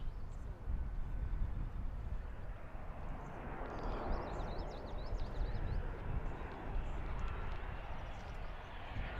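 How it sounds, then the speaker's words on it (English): An airliner arriving from West Palm Beach passes over Fort Mifflin near Philadelphia's airport, a broad roaring rumble that swells and lingers, with faint birdsong chirping above it. "That's the flight from West Palm Beach."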